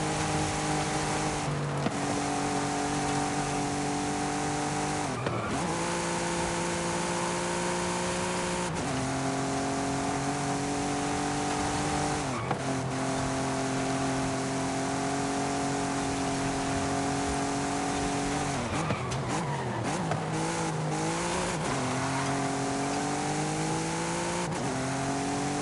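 Car engine and tyres from a race in Forza Horizon 5, a steady loud engine drone that rises and falls through repeated gear shifts over the whole stretch, with no talk.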